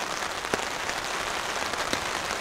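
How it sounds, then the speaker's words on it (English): Rain falls steadily at a campsite, a dense, even hiss of drops striking surfaces, with a couple of slightly sharper drop hits standing out against the constant wash. "Raining now."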